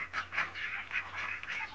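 Repeated nasal quacks from several laying ducks in a pen, about five months old, overlapping in short bursts at a moderate distance, with steady background noise.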